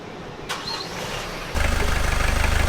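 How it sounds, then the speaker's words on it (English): A boat's marine engine, recently fitted with a new exhaust elbow and turbo, is cranked from the helm and catches, settling into a loud, close, steady pulsing idle after a brief stretch of quieter background noise. "go up and start the engine"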